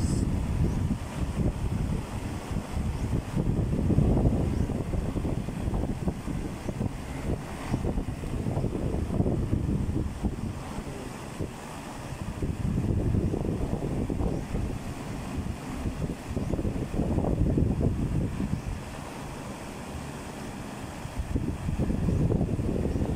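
An electric fan on its highest speed blows hard, producing a loud, gusty rumble of rushing air that swells and eases in waves, with no talking.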